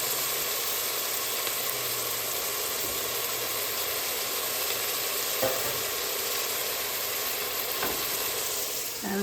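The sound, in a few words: onions frying and sautéing in a pan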